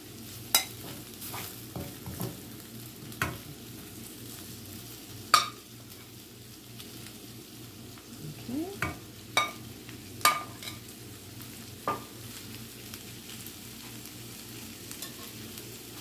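Potatoes frying in olive oil in a crowded pan for home fries, a quiet sizzle marked by scattered spatula scrapes and stirring clicks, with no talking.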